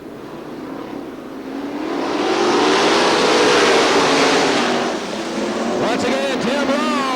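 A pack of 410 sprint race cars roars past at Crystal Motor Speedway in Michigan, the engine noise swelling to a loud peak and then easing. An announcer talks over the end of the pass.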